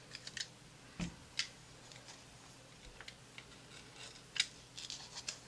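Scissors cutting paper for a Filofax personal organiser: a few light, sparse snips and small ticking clicks, quiet and close, spread across the clip with no talking.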